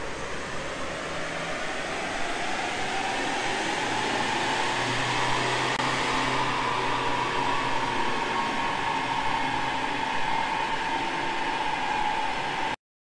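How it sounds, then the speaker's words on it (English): A Mitsubishi Triton with a 2.4 DiD engine and automatic gearbox runs on a chassis dyno, a loud, steady engine and roller roar that rises in pitch through the run and stops abruptly at the end. "This is the dyno before run."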